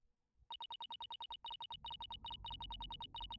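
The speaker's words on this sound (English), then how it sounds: "That was my phone." A mobile phone ringtone heard during an Ace Attorney Spirit of Justice playthrough: a loud, rapid electronic trill of repeated beeps in quick bursts, continuing steadily alone with a low rumble underneath.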